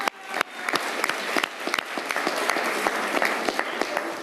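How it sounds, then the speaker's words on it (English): An audience claps for the Kappa Band at a mayoral announcement of new student art programs, with brisk, dense applause and a few louder individual claps standing out, sustained throughout. "You can clap for the Kappa Band again."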